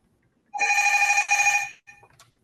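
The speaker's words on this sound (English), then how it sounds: "I haven't heard a house phone in like 20 years." A house telephone rings with a bright electronic trill, one long burst of about a second with a brief break in it, then a short faint follow-up ring, alone in a quiet room.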